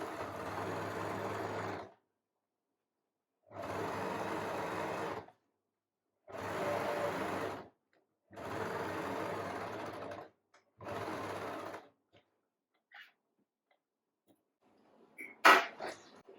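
A sewing machine stitches a fabric storage basket in four long, loud, steady runs separated by pauses, followed by a shorter burst and then scattered handling clicks and rustles.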